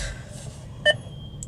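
Voice command beep in a 2017 Mercedes-AMG CLA45 cabin: a single short electronic beep, clear and close, over faint interior hum.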